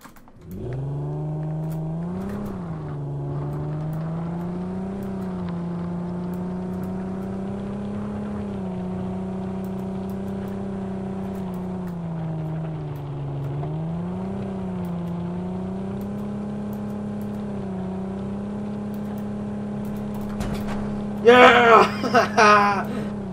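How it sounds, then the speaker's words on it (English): A car engine drones steadily in the video game Ring of Elysium, holding a constant hum with small surges as it revs and shifts, ending in a burst of clattering impact noise. "I gotta take the car."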